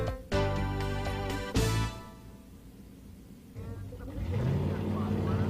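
A 1969 Chevy El Camino SS 396 and a Ford Mustang at a nostalgia drag strip, loud engine roars with sharp revving bursts near the start, then a passing rush and a rising engine drone.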